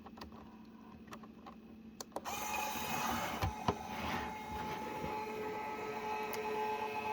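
A small battery-powered motor runs inside a Lego model, starting with a few clicks and then settling into a steady mechanical whir with occasional ticks, fairly close and alone.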